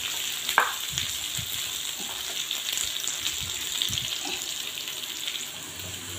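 Okra (bhindi) with chili flakes sizzles steadily in oil in a pan on a gas stove, a continuous close hiss with a few faint stirring clicks.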